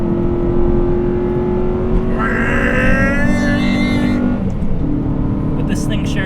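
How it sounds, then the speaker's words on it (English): 2002 Honda Civic Si EP3 hatchback engine revving up loudly and steadily, then easing off before the pitch climbs again, with a person talking over it. "Engine makes a good sound."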